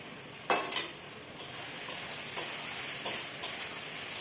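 Potatoes and chicken fry in a pan, sizzling softly under a series of sharp metallic clicks as a utensil scrapes and taps against it at irregular intervals.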